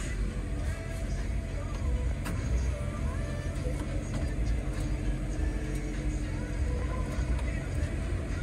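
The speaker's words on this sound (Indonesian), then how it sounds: "Mesin nyala." A used auction car's engine runs cold just after starting, a low steady idle rumble heard from close by beneath faint background noise and some indistinct voices.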